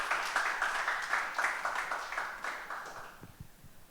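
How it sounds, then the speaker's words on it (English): Applause from an audience at an International Women's Day session, a steady pattering of many hands at moderate distance that fades out over a few seconds. "we can just take a minute to applaud them."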